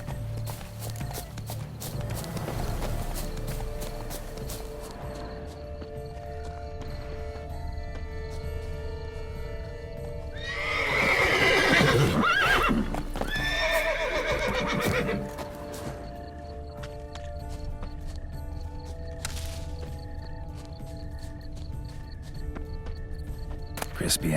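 A horse in The Witcher 3 gives a loud, drawn-out whinny midway, with hooves clopping before and after and a steady game soundscape underneath.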